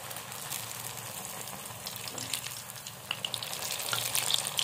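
Poha puris deep fry in hot oil with a dense, steady crackling sizzle that grows slightly louder toward the end, with no voices.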